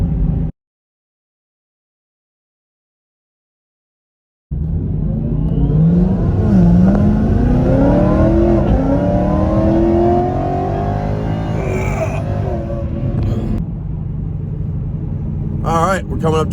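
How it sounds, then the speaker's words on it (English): A 2019 S550 Mustang GT with a Whipple stage 2 supercharger and whine mod accelerates hard after several seconds of silence, the engine roar climbing in pitch with a rising supercharger whine, loud and close from inside the car. "You guys can hear what the supercharger sounds like one more time."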